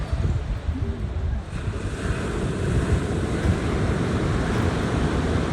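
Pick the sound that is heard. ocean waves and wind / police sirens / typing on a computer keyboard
ocean waves and wind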